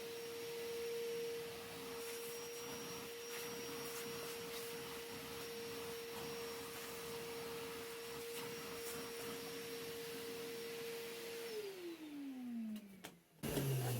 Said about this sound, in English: Put the hoover on.